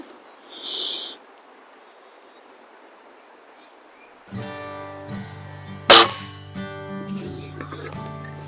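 A Diana 34 air rifle fired once at a 25-yard target gives a single sharp, loud crack midway, over steady background music and faint outdoor ambience.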